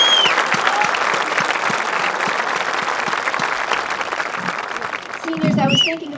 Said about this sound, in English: Please join me in a round of applause for our faculty and staff.